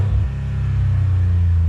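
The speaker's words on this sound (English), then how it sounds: "it sounds like it has an exhaust leak" A car engine with an exhaust leak idling close by, a loud, steady low rumble with a brief dip near the start, no voices.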